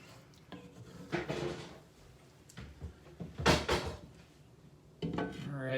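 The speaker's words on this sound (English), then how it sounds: "I'm gonna mix this up and then I'm gonna cover it for about 10 minutes." Beef stroganoff stirred in a pan, then a lid set on top: scraping utensil strokes and clattering cookware knocks in short bursts, close and moderately loud, with a sharp metallic clank near the middle.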